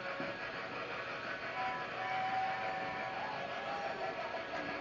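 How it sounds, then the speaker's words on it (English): A toy train runs on a layout through a home's dining room toward the kitchen, giving a faint, steady mechanical rumble and whir with no voices. "Out of the dining room and approaching the kitchen station."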